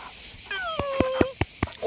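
A dog makes a rising, whining whimper close by, along with a series of short soft huffs like panting under steady background hiss.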